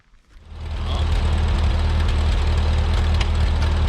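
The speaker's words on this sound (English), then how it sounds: "Alright guys, we got the tractor fired up." A Ford 2N tractor engine starts up and settles into a loud, steady, low rumbling idle with a throbbing beat, close to the microphone, with no talking over it.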